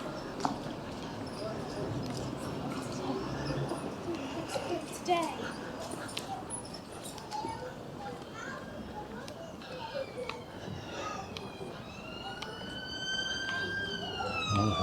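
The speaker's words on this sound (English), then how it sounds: "Oh, still hearing them sirens. Oh, it's an ambulance." An ambulance siren wails along a warm seaside street in Cleveleys, its sweeping tones rising late in the clip over steady street bustle, a dog and nearby talking voices.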